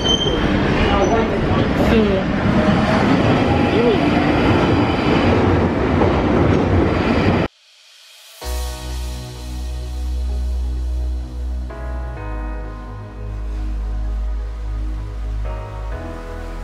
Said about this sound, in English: Our train is here, you know?